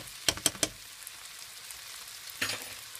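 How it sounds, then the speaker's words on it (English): Okra sautéing in oil in a pan as tomato paste is added for a Lebanese dish, with a few sharp sizzling bursts and stirring clatters early on, then a quiet hiss and one more flare of sizzle. "Okay, so the okra now is ready after 2 minutes frying."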